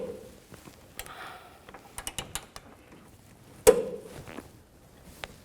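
A wrench turns a ball joint bolt an additional 90 degrees on a 2003-10 BMW X3 front suspension, giving quiet ratcheting clicks and creaks, with one sharper metallic knock partway through.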